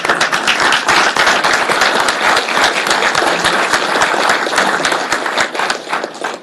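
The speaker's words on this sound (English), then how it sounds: "We should give him a round of applause" A round of applause in a room at a regular board meeting, many people clapping briskly with distinct sharp claps audible in the wash, loud and steady, tapering slightly at the end with no speech.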